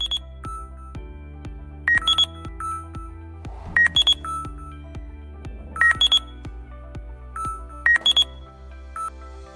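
Electronic UIG ground scanner emitting its void-indicating signal: a sustained low tone with a steady pulse, punctuated roughly every two seconds by bright clusters of high beeps, moderately loud and alone.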